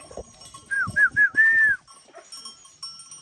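Several bleating calls from sheep or goats sound close together, with shuffling and clatter of animals moving nearby.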